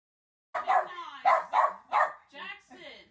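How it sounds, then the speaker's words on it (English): A puppy lets out a quick run of about six sharp, high barks and yips after a moment of silence, close and moderately loud, trailing into softer whiny yelps. "He barks at them and then get used to them."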